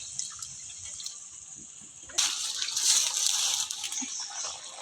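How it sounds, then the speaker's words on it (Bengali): Water pours into a cooking pot of spice-fried curry over a wood-fired stove, starting suddenly midway as a steady, bright gushing splash that follows a quieter background hiss. "কষানো শেষ, এবার জল দিয়ে দেবো।"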